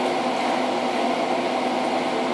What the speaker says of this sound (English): I guess I'm just going to go ahead and tack weld something on here.